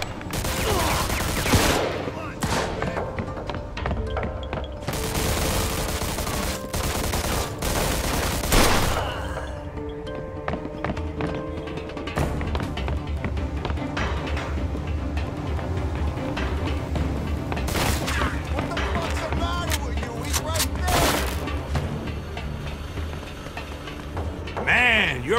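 Dense gunfire rattles through a Mafia II shootout, with repeated bursts and volleys from several weapons sounding loud and close nearly throughout, under occasional shouted voices.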